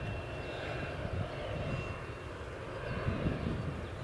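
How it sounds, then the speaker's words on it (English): Loganair airplane taxiing on the runway at Manchester Airport in the early morning, a steady, fairly distant engine drone heard continuously with no talk. "Unless it's waiting for the Loganair to taxi over the runway"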